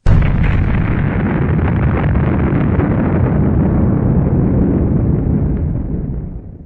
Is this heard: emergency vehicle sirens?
no